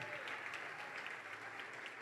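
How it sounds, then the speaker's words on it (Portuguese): Church congregation clapping together at a service, a steady, even wash of hands heard at a distance and fairly quiet, with no talking over it. "Igreja, vamos aplaudir, vamos glorificar."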